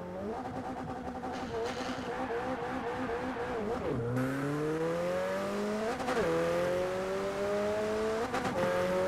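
A rear-wheel-drive car in the Forza Horizon 4 video game drives through rain, its engine rising and falling in pitch through several gear changes, loud and close throughout.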